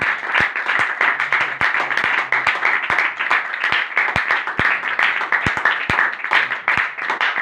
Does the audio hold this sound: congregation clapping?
yes